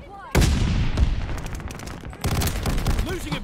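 Machine gun fire rattles in Call of Duty Vanguard, a sudden loud burst of rapid shots followed by a brief lull and then another sustained stretch of dense firing with booming hits, close and heavy, as a voice talks over it.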